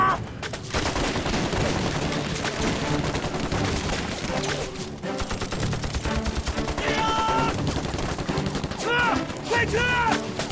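Bursts of gunfire in a staged battle scene from a Chinese spy TV drama, loud and continuous, mixed with a dramatic music score and voices.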